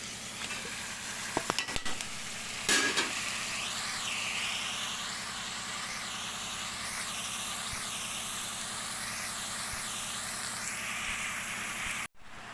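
Salted eggplant pieces and tomatoes fry in a hot pan with a continuous, fairly loud sizzling hiss. A few sharp clicks and knocks sound early on, and the sizzle runs unbroken to the end.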